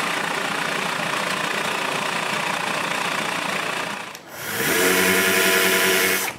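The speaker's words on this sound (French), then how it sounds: "avec une mèche de 35 mm, je perce les trous pour les pentures." Power drill with a 35 mm bit boring hinge holes in a bathroom cabinet door: a loud, steady grinding whine holds for about four seconds, dips briefly, then rises again to a higher, harsher pitch. No one speaks.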